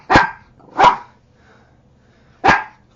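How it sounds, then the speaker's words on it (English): A small dog gives three sharp, loud barks nearby: two in quick succession, a pause of over a second, then a third, with quiet between and no talk. "Every time I'm on, he barks"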